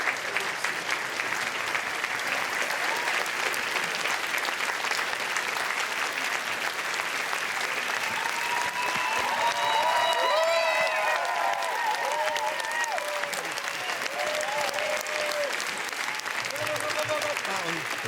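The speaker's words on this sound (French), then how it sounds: "the audience on their feet, applauding the director, Pawel Pawlikowski" A Cannes audience on its feet gives director Pawel Pawlikowski sustained, dense applause from a large crowd, with scattered cheers rising within it and voices speaking over the ovation.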